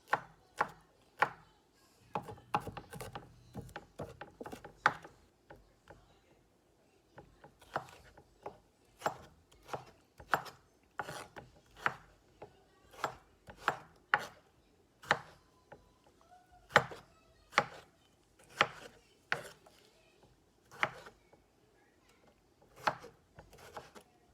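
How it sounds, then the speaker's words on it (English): A knife mincing four garlic cloves on a cutting board gives close, crisp chopping taps in quick bursts, pausing now and then and settling into a steady rhythm of sharp strikes, with no voices. "Next, I'll mince up the garlic. Again, 4 cloves."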